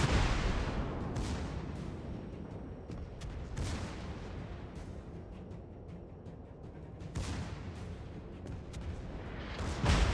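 Warship guns in World of Warships boom in heavy rumbling salvos, with several louder blasts standing out over a continuous low roar of naval battle.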